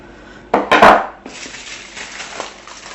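Vegetarian haggis mixture tipped from a bowl onto a buttered sheet of foil, with a few clattering knocks and a crinkling rustle, then soft foil rustles fading away.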